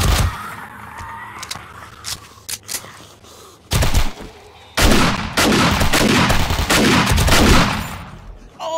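Gunfire in the 7 Days to Die survival game: scattered single shots early, then loud sustained bursts of rapid fire dominating the second half, with no talk.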